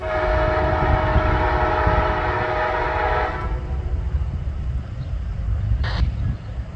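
CN 3115, a BC Rail heritage locomotive, hauls a tanker train through Mattoon: a loud, steady rumble of rolling freight cars with a sustained horn tone that cuts off midway, followed by continuing wheel noise and a brief whistle-like blip.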